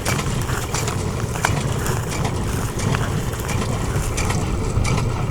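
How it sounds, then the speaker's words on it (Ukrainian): An idling tractor engine running with no load, heard as a steady low rumble that carries on evenly without change, along with some wind noise. "Трактор спокійно клапає. Без нагрузки, без диму, без нічого."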